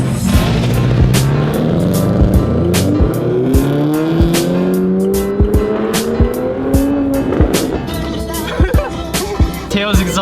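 A car engine revs hard again and again while tires squeal and skid, punctuated by sharp bursts and pops, loud and close throughout.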